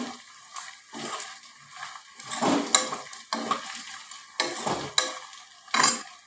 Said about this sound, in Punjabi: ਹੁਣ ਬਸ ਇਹ ਫਰਾਈ ਹੋ ਜਾਵੇ